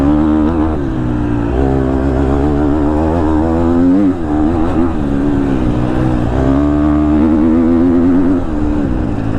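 A 2022 KTM 250 SXF four-stroke dirt bike being ridden, its engine loud and close with continuous revving that rises and falls in pitch as the rider works the throttle.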